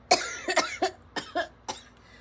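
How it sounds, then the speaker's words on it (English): Several harsh coughs from a person getting over a cold, five or six bursts spaced unevenly over a couple of seconds, close and fairly loud, with no talking. "Still getting over this cold cough."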